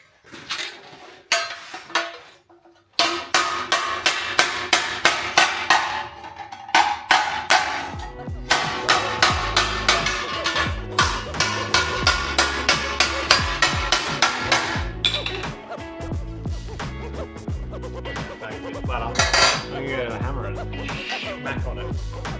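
Rapid metallic hammer blows ring out in quick bursts, close and loud, pausing briefly between runs of strikes on a rusty car boot panel.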